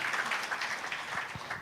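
A church congregation applauds during a sermon, a steady patter of clapping from many hands throughout, moderately loud and with no talking over it.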